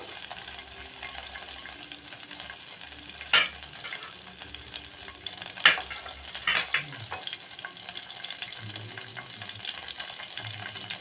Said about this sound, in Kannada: ಚೆನ್ನಾಗಿ ಅದು ಫ್ರೈ ಆಗಬೇಕು, ವಾಸನೆ ಬರೋವರೆಗೂ.